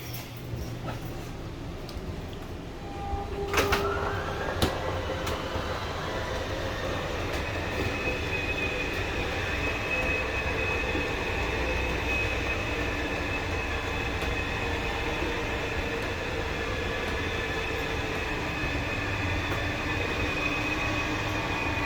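Slide-out retracting into a 2021 Grand Design Imagine 2250RK travel trailer, a steady motorized rumble and whine that starts after a few seconds and keeps running close by, with a squeal near its start and no talk.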